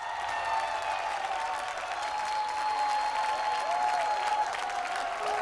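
Audience applause on a Bhojpuri singing competition stage show, welcoming the top 12 contestants, with steady sustained clapping under a held musical tone.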